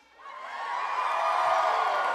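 Crowd cheering erupts at a PAX West convention panel, rising quickly from near quiet into a loud, continuous roar of shouts and whoops that holds to the end.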